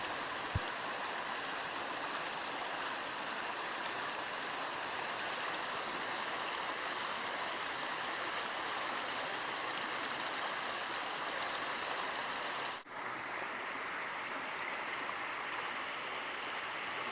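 Rushing stream water pours in a steady, dense hiss and roar, continuous and close throughout, with no voices.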